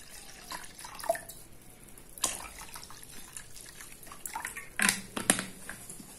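Water is poured into a bowl for milk-free crepe batter, one liter measured in a container; faint splashing and dripping with a few sharper pours and clinks, close by and fairly quiet.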